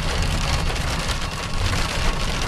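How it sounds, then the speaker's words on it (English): Heavy hail pounding down during a storm chase, a dense, steady roar of impacts with strong low rumble, loud and continuous with no talking. "It's hailing so hard."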